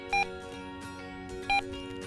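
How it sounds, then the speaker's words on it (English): A Talk-N-Go rechargeable walkie-talkie gives two short, high electronic beeps about a second and a half apart, heard over a steady humming background. "We're going to press this power button on top and hold it until we hear a beep."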